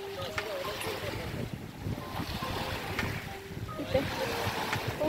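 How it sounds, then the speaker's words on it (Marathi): Strong waves roll and wash along a waterfront in continuous surging rushes, mixed with gusty wind buffeting the microphone and a few distant faint voices. "मस्त लाटा येत आहे जोर जोरात"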